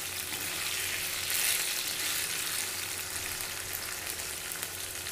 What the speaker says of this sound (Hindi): अब हम इसको भी 5 मिनट के लिए फ्राई होने देंगे।